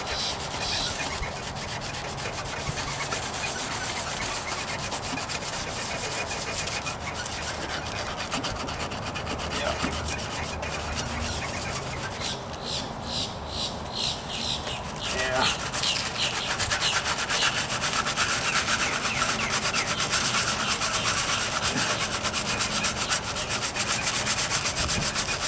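Wet sanding of rattle-can paint on the trunk of a 1998 Toyota Corolla, heard as a continuous close scrubbing and rubbing with slight shifts in texture as the strokes vary.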